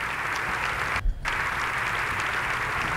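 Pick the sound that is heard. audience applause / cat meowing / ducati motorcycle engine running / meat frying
audience applause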